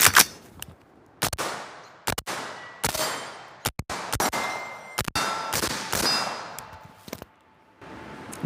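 Rifle shots fired through a VCOG optic ring out sharply outdoors, each followed by a metallic clang of steel targets being hit, about a dozen impacts in an irregular rhythm with short decaying echoes.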